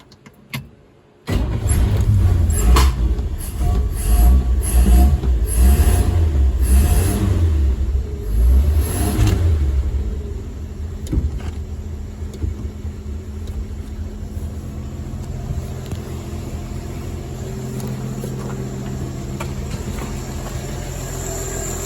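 A 1953 Chevy engine cranks and catches, revving loudly at first, then settles into a steady, quiet, smooth idle that runs on without a break, close by.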